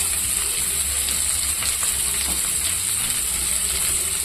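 Onion fries in hot oil with cumin, garlic and dried chillies, a loud, steady, close sizzle that holds throughout without pause.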